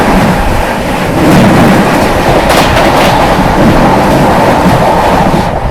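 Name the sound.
Anand Vihar–Haldia Superfast Express train passing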